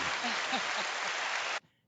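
A studio audience applauds at a talk show as a guest is welcomed: dense, steady clapping for about a second and a half, then an abrupt cut to silence.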